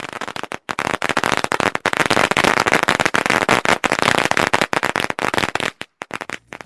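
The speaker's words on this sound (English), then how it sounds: "This is a firecracker." A long string of firecrackers bursts in rapid, dense crackling pops for several seconds, loud and close, with a few brief gaps near the end and no voices.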